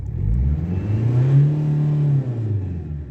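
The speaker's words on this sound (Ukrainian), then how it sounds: "Вже чути, що робить у нас турбіна." A Mercedes Vito 638 engine with a turbo revs up and holds high revs, a loud close rising drone with a turbo whir that sustains and then eases slightly toward the end.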